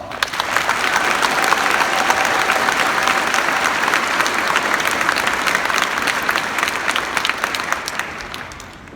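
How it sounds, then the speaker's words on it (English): Sustained audience applause at a high school graduation ceremony for the class of 2021, a dense steady round of clapping from a large crowd lasting about nine seconds before fading slightly at the end. "join me in giving all these wonderful people a round of applause"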